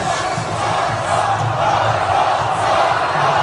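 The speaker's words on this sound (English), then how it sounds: "the cheering is happening here for Ron Paul in the stadium" A large stadium crowd cheers for Ron Paul at a political event, a continuous, loud, dense roar of many voices that holds steady with no break.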